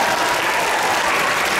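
An audience at an anime convention skit contest awards ceremony claps loudly and steadily, a dense burst of applause filling the short moment with no talk over it.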